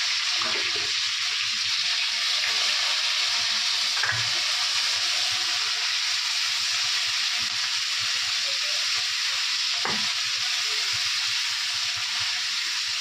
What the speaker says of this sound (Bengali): কাঁকড়াটা রান্না হচ্ছে